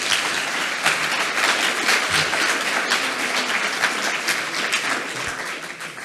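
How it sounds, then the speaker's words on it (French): A conference audience at a PHP forum applauds a speaker, dense even clapping filling the room steadily from start to finish with no talk. "Applaudissez-le bien"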